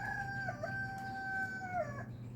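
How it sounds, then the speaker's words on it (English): A rooster crows once on a quiet early morning, a clear, moderately close call lasting about two seconds over faint background ambience. "And my rooster knows it's time to get up."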